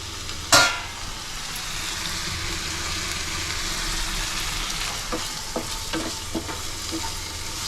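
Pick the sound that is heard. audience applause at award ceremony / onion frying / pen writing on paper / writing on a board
onion frying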